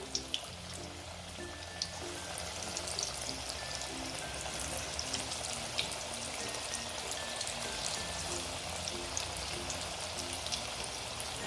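Sweetcorn fritters (bhaji) frying in hot oil, a steady dense bubbling sizzle that holds evenly and close throughout with no speech over it.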